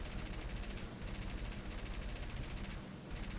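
Machine guns fire from a fighter aircraft in War Thunder as a loud, continuous rapid rattle, with brief dips in the burst around the middle and near the end.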